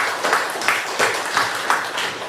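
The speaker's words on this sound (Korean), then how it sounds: "박수 드리겠습니다." A church congregation applauds during a worship service, giving a steady wash of clapping with a regular pulsing rhythm that sounds moderately close and fills the whole moment.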